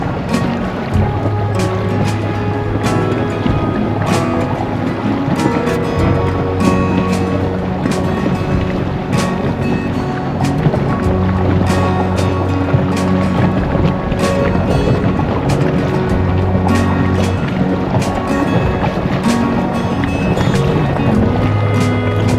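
A small 3D Tender 290 boat's electric motor drones steadily while the hull slaps over waves, with wind buffeting the microphone throughout.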